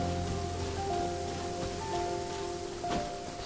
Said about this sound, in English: And it just started to rain.